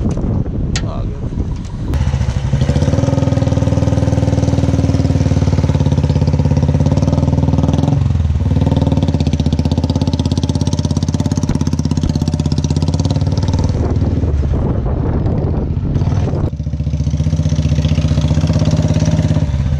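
Royal Enfield Bullet motorcycle engine running close by, a loud steady thumping idle with a couple of short dips, while someone talks over it.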